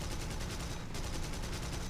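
Aircraft cannons firing in War Thunder, a dense continuous burst of rapid rhythmic shots that is loud and unbroken, with no speech over it.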